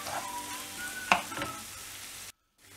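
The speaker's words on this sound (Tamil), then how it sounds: "இந்த ஆனியன்ஸ் வந்து நல்லா ஃப்ரை ஆகணும்" Onions frying in a pan for chow chow kootu give a steady close sizzle with a few stirring scrapes, then cut off abruptly near the end.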